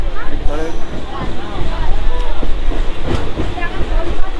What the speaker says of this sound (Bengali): ট্রেনটা তো ছেড়ে দিয়েছে দীঘার উদ্দেশ্যে